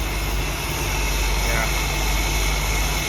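A 1957 Buick Roadmaster 75 coupe idles just after its first startup in years, its engine giving a steady, continuous, fairly loud rumble with no breaks.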